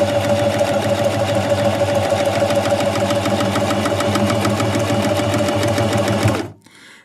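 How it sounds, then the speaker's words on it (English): A Singer 4423 sewing machine runs continuously while stitching a buttonhole, its fast, even mechanical hum and rapid needle chatter close and loud until it abruptly stops near the end. "it will keep sewing if you don't stop"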